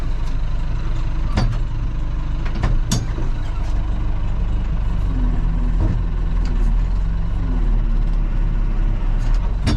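The diesel engine of a backhoe loader idling after a mountain drive: a loud, steady, low rumble close by, broken by a few sharp clanks and hisses.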